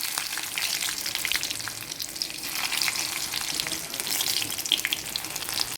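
Garlic frying in hot oil in a pan for a pumpkin and bean curry, a steady close crackling sizzle with faint stirring scrapes and no talk.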